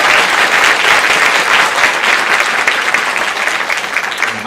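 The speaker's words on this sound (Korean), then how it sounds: "박수 한번." A church congregation bursts into sustained applause, a dense and even wash of many hands clapping that holds steady for several seconds before easing slightly at the end.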